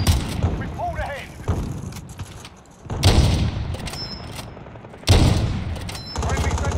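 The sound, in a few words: gunfire in COD Warzone video game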